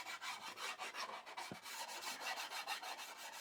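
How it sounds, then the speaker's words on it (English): Sandpaper being rubbed back and forth to put small chamfers on the corners of a wooden straight edge, giving quick, even, rhythmic rasping strokes heard up close and alone. "grit sandpaper will be perfect for adding our little chamfers to the corners as well"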